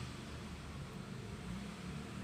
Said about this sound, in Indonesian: Kipas juga lebih kencang nih,